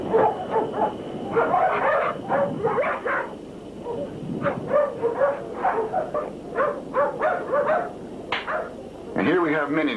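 Several pit bulls at a kennel bark and yip in short repeated bursts throughout, fairly close, with whimpers mixed in and people talking over them.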